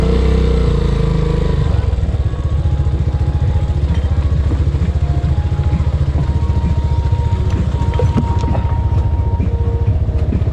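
Motorcycle riding down a rough path toward the Agos river, a close steady low engine chug with rattling and clatter over uneven ground, faint voices in the background.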